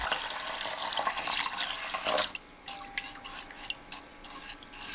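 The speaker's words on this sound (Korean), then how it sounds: "쌀을 씻어서 체에 받쳐 물기를 빼주세요." Rice rinsed under a running kitchen tap, a steady broad rush of water into a sink that cuts off after about two seconds, followed by quieter dripping and light trickles as the grains drain in a sieve.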